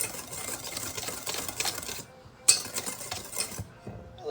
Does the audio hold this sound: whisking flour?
yes